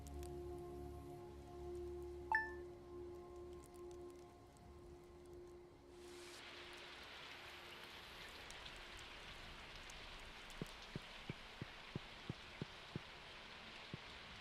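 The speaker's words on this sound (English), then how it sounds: "It's raining." Steady rain hiss in Stardew Valley, soft at first then swelling into a fuller wash, with a bright chime early on and a few faint ticking clicks near the end; no voices.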